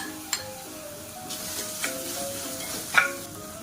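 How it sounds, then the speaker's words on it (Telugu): Ginger garlic paste frying in a pan with turmeric and chili powder, a low steady sizzle with occasional utensil scrapes and a sharper clink near the end, close and without talk. "పచ్చివాసన అంతా పోయేంత వరకు జింజర్ గార్లిక్ పేస్ట్ని కొంచెం ఫ్రై చేసుకోవాలి"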